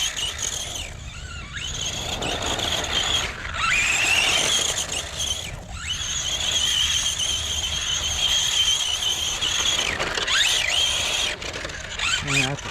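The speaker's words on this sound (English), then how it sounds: "This thing has the loudest sounding gearbox ever." A Tamiya Blitzer Beetle brushless RC car running with a loud gearbox, giving a continuous high whining drone that rises and falls with throttle over the whole stretch, with a few brief dips, and a voice talking underneath.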